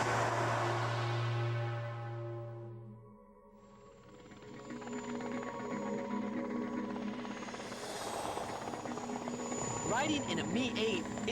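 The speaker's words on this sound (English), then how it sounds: "Riding in a Mi-8 isn't exactly my idea of no-frills flying" Loud, steady drone of a Mi-8 helicopter in flight, heard from inside the cabin, with strong rotor and engine harmonics that dip briefly and then return under a rising high whine.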